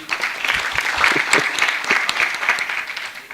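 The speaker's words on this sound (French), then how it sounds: "Applaudissez-les, s'il vous plaît." A room full of people applauds at a presentation on Industry 4.0 and logistics, with dense, steady clapping throughout.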